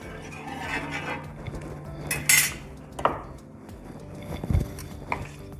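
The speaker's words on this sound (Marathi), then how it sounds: "गॅसवर मी तवा ठेवलेला आहे, त्यात थोडं तेल टाकते" Griddle (tava) set on a gas stove with a little oil added: scattered metallic clanks and taps of cookware, one sharp bright clink, over a low background hum, close and fairly quiet.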